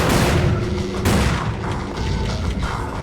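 Rapid gunfire rings out at a shooting range in the video game Hitman Contracts, with loud, close bursts of overlapping shots and booming reports filling the whole stretch without pause.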